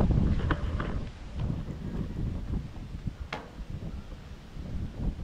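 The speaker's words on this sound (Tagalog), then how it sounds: "Lakas ang hangin." Gusty wind at a Tagaytay campground buffets the microphone with low rumbling bursts, strongest at the start and fluctuating throughout.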